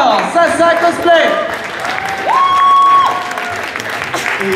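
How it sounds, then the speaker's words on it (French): An audience at a geek and video game convention applauds a cosplayer in a contest: loud, steady crowd clapping throughout, with shouted and cheering voices rising over it. "On peut encore l'applaudir très très fort."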